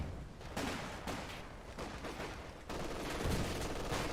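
Bursts of machine gun fire crackle through a real-time strategy war game battle, repeated rapid volleys mixed with distant battlefield gunfire and explosions, steady and fairly dense with no talking.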